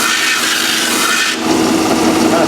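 Steady abrasive rubbing as a wooden ukulele body is sanded evenly from both sides, a continuous close scratchy sound that shifts slightly in tone midway through.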